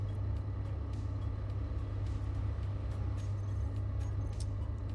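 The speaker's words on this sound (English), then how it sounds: "That's just the braking thrusters." Braking thrusters fire on a ship in the modded survival game Space Engineers, a steady, loud, low roar and rumble that holds unbroken with faint hissy flickers above it.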